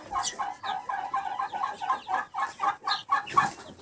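Broody hens cluck steadily in a rhythmic series of soft notes as they squabble, with faint higher chick peeps mixed in, close by.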